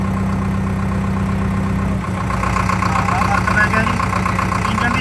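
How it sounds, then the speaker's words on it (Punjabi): Powertrac Euro 60 tractor engine idling steadily after a mode change, a close, loud diesel throb with a brief dip midway and a slightly shifted tone afterward. "ਦੇਖੋ ਟਰੈਕਟਰ ਦੀ ਆਵਾਜ਼ ਬਦਲ ਗਈ ਹੁਣ ਪਹਿਲਾਂ ਆਵਾਜ਼ ਹੋਰ ਸੀ"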